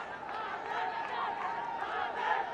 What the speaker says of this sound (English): The crowd are delighted with that lovely looking shot.